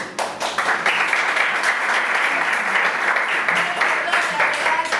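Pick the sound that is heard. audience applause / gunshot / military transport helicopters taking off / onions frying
audience applause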